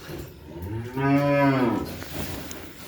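A cow in a snowy barn lets out a single loud, close moo lasting about a second, rising and falling in pitch, with quiet surroundings and no talk.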